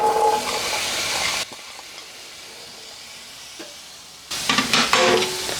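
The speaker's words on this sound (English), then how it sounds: "Let's put a little bit of olive oil and the green peppers." Green peppers hit hot olive oil in a pan for a quiche and egg roll dish, giving a loud burst of sizzling that drops to a quieter hiss, then flares up loudly again near the end.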